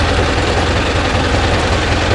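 A Mahindra Arjun Novo 605 DI tractor in two-wheel drive strains and slips in a field with a rotavator or cultivator. Its engine gives a loud, steady, low diesel throb at close range with no talking.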